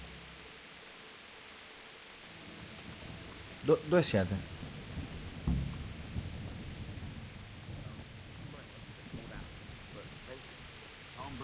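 Steady rain falls in the medieval game Kingdom Come: Deliverance, with a crack of thunder and a rumbling roll after it, while someone speaks briefly over the storm.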